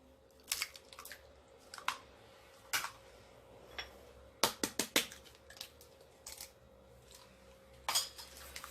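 Eggs, butter, oil and sugar stirred together in a bowl, heard as a run of sharp, close utensil clinks and taps against the bowl in irregular bursts, with quiet pauses between them and no talking.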